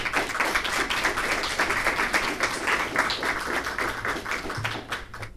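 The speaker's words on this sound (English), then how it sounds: "Please give a round of applause for Andy." Audience applause for an elementary school finalist in a clean water poster contest, steady clapping from a crowd of moderate size that fades out after about five seconds.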